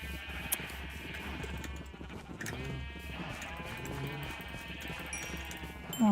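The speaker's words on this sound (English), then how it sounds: "I'll breed those sheep." Sheep bleat repeatedly in Minecraft over steady game background noise, with several wavering calls at close range.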